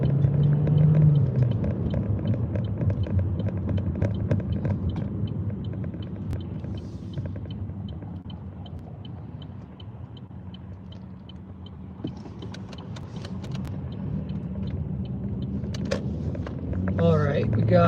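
A car pulling into a restaurant parking lot, its engine giving a steady low rumble that eases off as it slows, with a few small clicks and bumps from inside the cabin.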